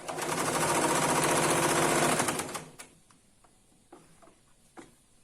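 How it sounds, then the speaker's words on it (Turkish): A sewing machine stitches elastic gathers into fabric with a fast, steady mechanical whir for about two and a half seconds, then stops, leaving scattered clicks and light handling noises. "Evet şöyle dikiyorum."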